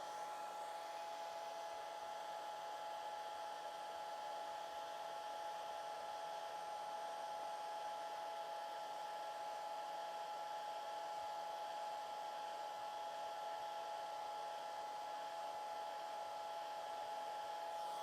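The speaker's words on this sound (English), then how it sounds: "you will want to go for another dry with your hair dryer" A hair dryer blows steadily over wet yellow watercolor paint on a goldfinch painting, a continuous close whirring hum that holds at an even level throughout with no talking.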